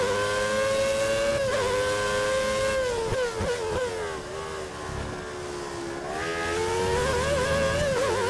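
A 1990s Formula One car in the F1 2013 racing game at Imola screams through its gears, loud, close engine whine rising and falling with shifts and a brief lift mid-run, no talk.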